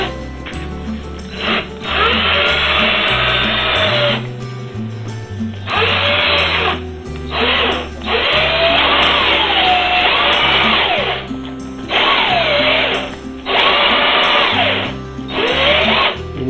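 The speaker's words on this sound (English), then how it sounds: "let's try this with a drill and see what happens." A cordless drill bores grommet holes through a sailboat mainsail, its motor whining in several loud bursts of a few seconds each, separated by short pauses, with the pitch sagging and rising as the bit bites into the sailcloth.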